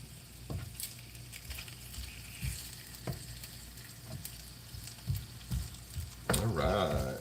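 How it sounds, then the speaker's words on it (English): Bacon frying in a pan gives a soft, crackling sizzle with scattered pops and spits, fairly quiet and close, under and between bits of talk, ending in a louder burst of sizzling. "Bacon's coming along. So you can hear that sizzle."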